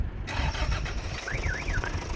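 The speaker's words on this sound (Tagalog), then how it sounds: "so dito i-start natin yung makina" Toyota Hi-Ace with a 1KD diesel engine cranking and starting, then settling into a rough, loud clattering idle close by, with a faint whistling tone rising and falling.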